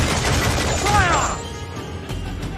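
A ship's cannon volley in the pirate naval game Assassin's Creed IV Black Flag: a dense roar of crashing blasts for over a second, then a lower, fading rumble, with shouted voices mixed in.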